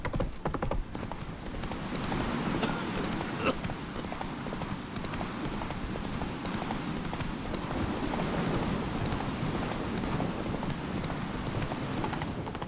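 In a video game, the horse Roach's hooves clip-clop steadily at a brisk pace over continuous background game ambience, with a voice speaking briefly over it.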